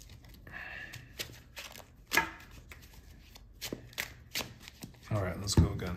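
Magic: The Gathering cards being shuffled in quick riffles and bursts, with a person talking over the clattering.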